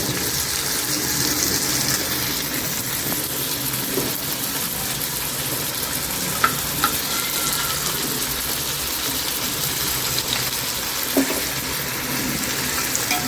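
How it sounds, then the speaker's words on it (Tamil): Chicken cooks in a pot for biryani, a loud, continuous hissing bubble that runs evenly for about thirteen seconds, close by and steady, with a few faint clinks and no speech. "இந்த சிக்கன் வந்து ஒரு அஞ்சு நிமிஷம் நல்லா வேகட்டும்"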